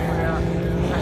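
A Nissan GT-R race car at a GT-R car festival roars past close by, a steady loud engine drone filling the whole short moment.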